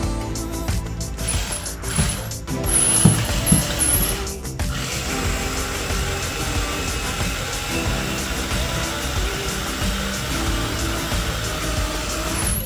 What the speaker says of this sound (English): I'm trying to strip out because my screwdriver head is the worst ever.